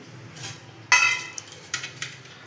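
A metal milk pot is set on a kitchen stove with a sharp clank, followed by a few lighter metallic knocks and clinks nearby.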